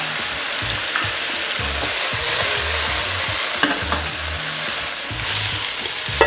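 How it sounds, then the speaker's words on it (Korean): Mushrooms stir-fried in a hot pan with salt and a splash of water, a loud continuous sizzle with occasional scraping and clatter of the spatula stirring, close up and without talk. "버섯도 다 볶아졌어요."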